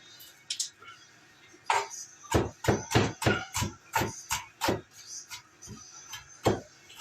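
A knife chops garlic cloves on a cutting board, about a dozen sharp close taps in an uneven rhythm, with no talk.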